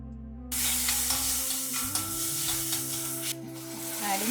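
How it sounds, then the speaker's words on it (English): Tadka of mustard seeds, cumin, onions, curry leaves and green chilies hitting hot oil, bursting into a loud close hiss and sizzle that holds steady with small crackles, heard alone. "I'm adding mustard seeds, jeera, onions, curry leaves, and I'll also add 2 green chilies."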